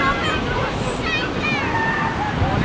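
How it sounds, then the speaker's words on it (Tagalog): Big sea waves surge and slosh around a banana boat ride at the beach, a loud continuous wash of surf with voices and crowd chatter mixed in. "sobrang laki ng alon"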